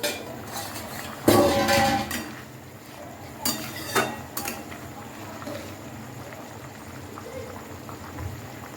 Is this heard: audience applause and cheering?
no